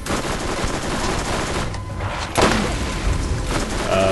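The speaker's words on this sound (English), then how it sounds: "It's a deadly machine gun." Sustained automatic machine gun fire from the video game Borderlands, a dense continuous burst of rapid shots with a brief lull midway before the loud firing resumes, with no talking.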